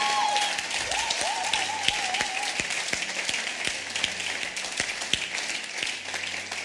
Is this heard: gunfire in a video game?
no